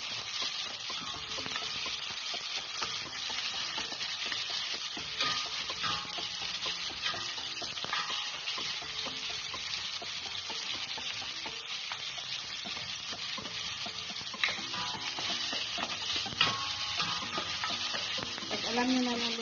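Tomatoes fry in a pan for a pork and mixed-vegetable miki noodle dish, giving a steady close sizzle with scraping stir strokes throughout and no talk.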